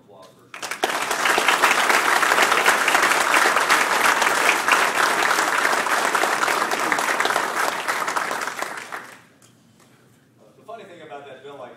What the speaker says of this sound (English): let's give Ken a round of applause